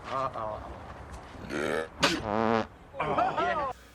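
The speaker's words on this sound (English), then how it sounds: "Hang on, I got a burp start coming." A voiced burp-like sound, drawn out and croaky, mixed with short vocal noises and breathy bursts, close to the listener.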